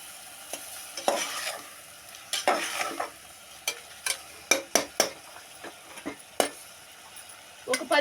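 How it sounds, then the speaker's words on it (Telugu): Green chillies and tomatoes sizzle softly in a pan for an old-style mixed-greens curry, broken by repeated scraping strokes and clinks of a spoon stirring them, with some quiet pauses between strokes. "ఈ రెండు వేసినాక బాగా కలుపుకొని కొద్దిసేపు వేగినిద్దామండి"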